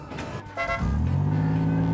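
A car driving on a road in Thailand, its engine note rising and building in loudness as it accelerates, with a short horn toot early on; no talk over the engine.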